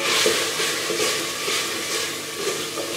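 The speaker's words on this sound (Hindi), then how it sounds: "अब शिमला मिर्च को हम थोड़ा सा भून लेंगे।" Sliced capsicum frying and being stirred in a pan for chana pulao, a steady close sizzle with scraping stir strokes throughout, no talk.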